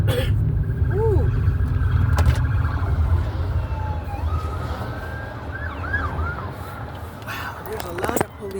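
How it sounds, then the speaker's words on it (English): Police car sirens wailing and yelping past on a hot city street, several rising and falling tones over steady traffic rumble, fairly near, with people talking underneath. "Wow, there's a lot of police cars."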